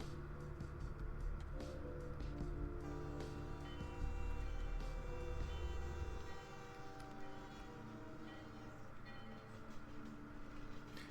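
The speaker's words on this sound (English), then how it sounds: "It's a train." Train rumbling past in the video game Vampire the Masquerade: Bloodlines, a loud sustained rolling roar with a steady low drone and horn-like tones, easing slightly toward the end.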